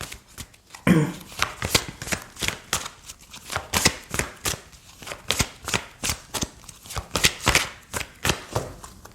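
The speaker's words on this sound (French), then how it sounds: "Alors, je vais prendre une carte de l'oracle de Gaïa." Gaia oracle cards being shuffled by hand, a steady run of crisp riffling slaps and flicks repeating every half second or so, close and moderately loud, with no voice over it.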